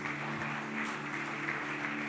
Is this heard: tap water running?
no